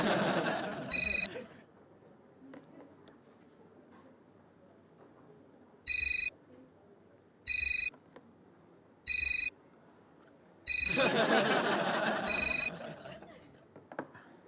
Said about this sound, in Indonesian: jadi kalau misalnya Iren yang telepon baru diangkat